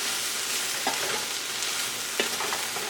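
A large batch of vegetables stir-fried in a wok for vegan pad thai gives a steady, close hiss of sizzling oil, broken by two sharp scrapes or clinks of the utensil against the pan.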